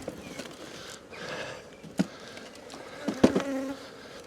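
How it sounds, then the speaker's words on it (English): Honey bees buzz around a hive box in a steady close-up drone, broken by a few sharp knocks and clicks from handling the box. "A lot of bees in that box."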